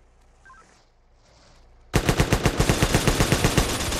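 Rapid automatic gunfire erupts in the multiplayer game MTA:SA after a quiet lull, a loud, steady burst of roughly a dozen closely spaced shots lasting about two seconds.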